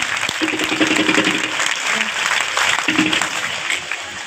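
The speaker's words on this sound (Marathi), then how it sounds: "तर जोरदार टाळ्या वाजवा" Loud, sustained applause from a large audience at a devotional Shiv-naam gathering, steady dense clapping throughout with faint voices beneath.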